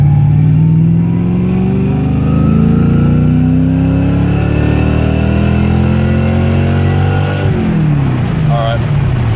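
A race car engine revs up in a long, loud climbing pull during street tuning with a Microsquirt ECU, its pitch rising steadily before dropping off near the end.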